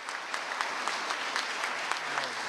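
Applause for the White Helmets, a Syrian rescue organization, dense and sustained, with sharp individual claps standing out from the steady crowd roar.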